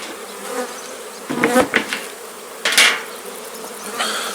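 Honeybees buzz steadily around a hive during an autumn inspection, a continuous drone broken by a few knocks and clatters of beekeeping equipment.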